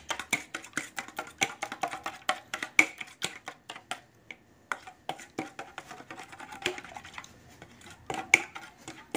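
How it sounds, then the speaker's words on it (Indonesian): Fishing bait ingredients for carp are stirred in a bowl, giving quick, irregular clinks and scrapes of a utensil against the container, close and fairly sharp, with no talking. "Kemudian diaduk terlebih dahulu biar bahan-bahannya tercampur dengan merata."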